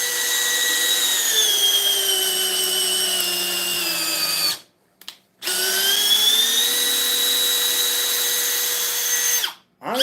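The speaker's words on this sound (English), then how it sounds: "for a 12-volt drill, even though it's on speed 1, it does not have a fully charged 2 amp hour battery in it" A 12-volt cordless drill on speed 1, with a partly charged 2 amp-hour battery, whirs steadily and loudly up close, stopping briefly around the middle before running again, then cutting off near the end.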